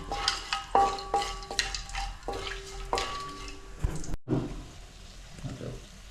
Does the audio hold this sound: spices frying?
yes